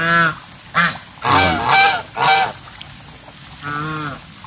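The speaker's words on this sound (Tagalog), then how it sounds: "Ibang klaseng gansa yan ka farmer." Farmyard geese honking loudly and close, several harsh nasal calls in quick bursts followed by a pause and one more drawn-out honk.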